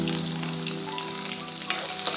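Spices and koilar bhaji leaves frying in hot oil for a tempering, a dense steady sizzle with crackling pops, close and continuous, with a couple of sharper spatters near the end and no voices.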